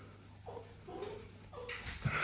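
Dogs whimper and yip in short, faint bursts indoors, wanting to be let outside, with a soft rustle near the end.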